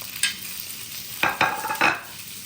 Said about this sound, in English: Putting in the onions and the pepper.